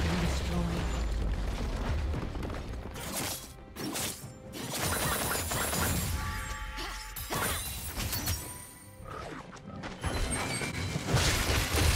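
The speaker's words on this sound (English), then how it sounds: "Team's turret has been destroyed." A turret being destroyed in League of Legends: dense, loud crashing and shattering game effects with booms and clanks, cut by brief gaps, amid busy in-game action with an announcer's voice.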